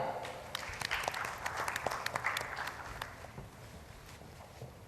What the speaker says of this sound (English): a huge round of applause for our panel discussion moderator